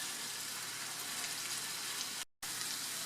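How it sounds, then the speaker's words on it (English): Raisins tipped into hot oil with sautéed carrots sizzle steadily in a pan, a close, even crackling hiss that drops out briefly for a moment before resuming. "I'm going to add about 1 cup of raisins here."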